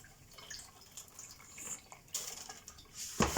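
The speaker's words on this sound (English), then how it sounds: "I'm going to grab a small pan and fill it up with water." Tap water runs into a small kitchen pan with faint drips and light splashes, ending in a brief louder gush of water.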